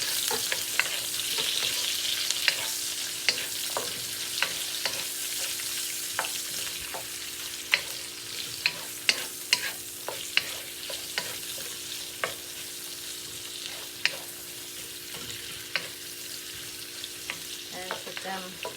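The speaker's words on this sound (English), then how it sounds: "So I'm gonna heat up some oil, and we'll put the onion." Onion frying in hot oil for chop suey, a steady close sizzle punctuated by frequent sharp clicks and scrapes of stirring over nearly twenty seconds, with no one talking.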